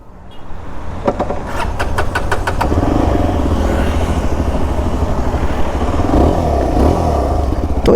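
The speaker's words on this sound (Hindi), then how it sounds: "तो सबसे पहले आप सुनिए इसका एग्जॉस्ट साउंड।" A 2025 Yezdi Adventure motorcycle's exhaust sounds close up. A few sharp throttle blips are followed by a steady, loud, thumping idle with a slightly uneven pulse. No one speaks.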